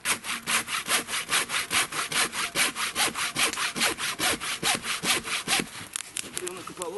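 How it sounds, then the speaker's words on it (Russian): A hand saw cuts through a firewood log outdoors at night in a forest camp, with a fast steady back-and-forth rasp of many even strokes, close and loud, slowing near the end. "Пока пойдем его пилить, готовить дровишек."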